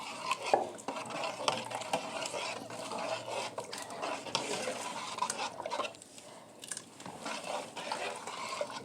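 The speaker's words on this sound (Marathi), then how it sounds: "पळीने चांगलं असं हलू हलू घ्यायचं याच्यात" A ladle stirs traditional sorghum and safflower-milk kheer in a pot, giving steady scraping and swishing strokes with occasional light clinks of metal, fairly close and continuous with no talk.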